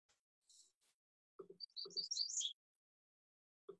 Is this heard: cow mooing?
no